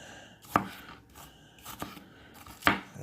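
Kaizen Japanese chef's knife chopping through a large onion, three sharp, separate strikes on a board spaced about a second apart, close and fairly quiet.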